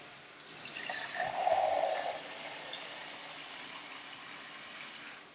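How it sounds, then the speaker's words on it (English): Cold tap water runs into a cooking pot for about a second and a half, a hissing splashing pour that stops abruptly, followed by faint settling drips in a quiet kitchen. "We can add the water now."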